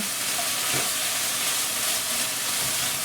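Chili bean mixture browning in a very hot pot: a loud, dense, continuous sizzle and hiss close up, with faint stirring scrapes underneath and no talking.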